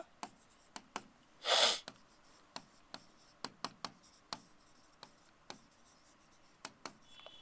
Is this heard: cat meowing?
no